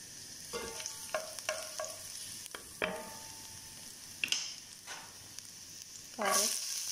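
Garlic and mixed leftover vegetables frying in oil in a pan, with a steady background sizzle broken by several sharp scraping stirs of a spatula and a louder hiss near the end.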